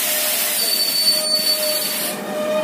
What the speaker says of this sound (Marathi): दोन्ही रेल्वेचं क्रॉसिंग झालेलं आहे.